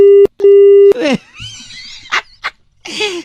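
Two short bursts of a steady electronic telephone disconnect tone after a call is hung up, loud and close, followed by a few brief vocal sounds and a sigh-like noise.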